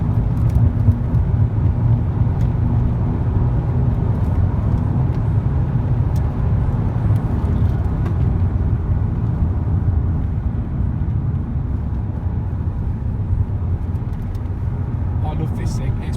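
A Ford Mondeo Titanium X Sport driving fast on an open road, its engine and road rumble a steady, loud, continuous drone from a cabin perspective, with a person speaking over it.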